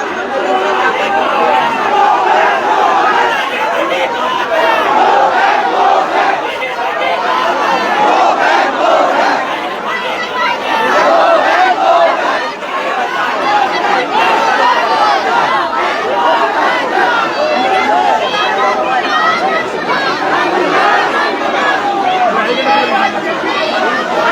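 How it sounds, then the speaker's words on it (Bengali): A dense protest crowd chants slogans and counter-slogans during a clash with police over the death of a PG trainee doctor at RG Kar, a loud, continuous roar of shouting voices that swells and dips. "স্লোগান পাল্টা স্লোগান উত্তপ্ত হয়েছে পরিস্থিতি"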